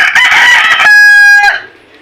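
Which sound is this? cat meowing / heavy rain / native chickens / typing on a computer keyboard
native chickens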